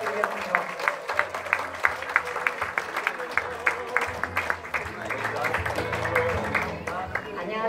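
Audience clapping in steady rhythm at the founding meeting of a Gyeongbuk labor human rights center, greeting a guest speaker; the claps ring out sharply over a murmur of talk and a low hum throughout.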